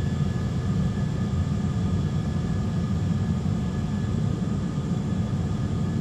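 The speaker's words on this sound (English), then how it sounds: "Airbus A320, Geneva Tower, you are cleared for takeoff, runway 23" Airbus A320 jet engines roar steadily and loudly throughout a takeoff roll on the runway, a broad continuous rushing drone with no talk.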